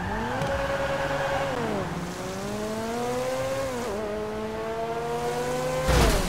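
Car engine in the video game Grand Theft Auto V, droning steadily as the engine pitch rises and falls through gear changes, with a brief noisy burst at the end.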